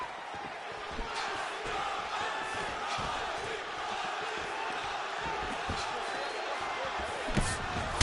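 Crowd roaring continuously in the UFC 4 video game during the third and final round, a steady loud arena din with brief swells, under commentary voices.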